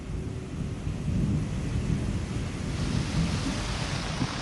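Heavy monsoon rain pours down over Delhi in a dense, steady roar with no let-up, and low rumbles run beneath it.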